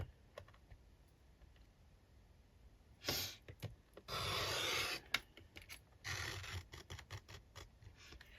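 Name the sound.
paper trimmer cutting page for altered book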